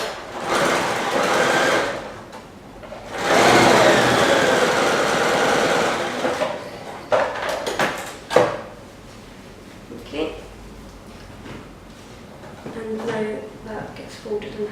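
A domestic sewing machine stitches patchwork cushion pieces together in two rapid, close-up runs of mechanical whirring and clatter, followed by quieter fabric handling and scattered clicks.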